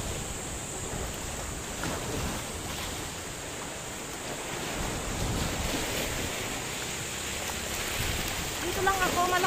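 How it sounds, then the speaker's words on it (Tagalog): Broad, steady roar of strong ocean surf along Burgos Road, Ilocos Norte, with heavy wind buffeting the microphone, swelling slightly louder toward the end. "Grabe, ang lakas ng alon."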